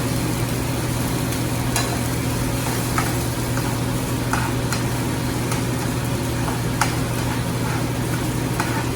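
Mushrooms fry and get stirred in a pan during home cooking, giving a steady loud sizzle with a low hum behind it and occasional sharp clicks and scrapes of the utensil against the pan.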